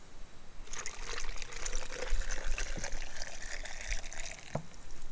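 Seawater pours into a container in a trickling, splashing stream that starts abruptly, runs for a few seconds with uneven gurgles, and stops sharply, heard close and alone.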